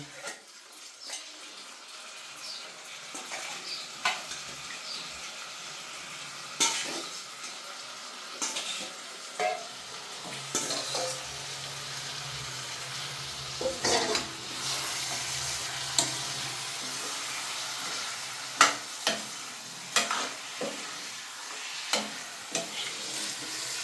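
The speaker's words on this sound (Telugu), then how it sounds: "ఇలా ఫ్రై చేసుకోవాలి చూడండి" Mutton frying in a pan while being stirred, with a steady close sizzle and sharp scraping clinks of the spoon against the pan throughout, no talking.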